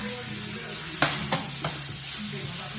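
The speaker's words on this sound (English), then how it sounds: "So if you hear this frying, like I said, it's very, very, very little oil." Asparagus, spaghetti squash and broccoli pan-frying in very little oil, a steady close sizzle with three quick scraping strokes of a utensil, no talking.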